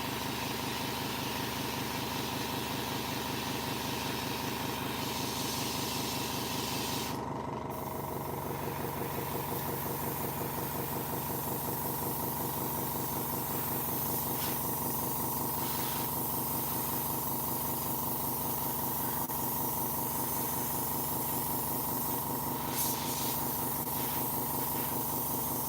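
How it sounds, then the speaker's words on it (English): A paint air compressor runs steadily for the whole stretch, a continuous hissing, motor-like drone with a brief dip partway through, loud and close with no talk. "this is like a compressor"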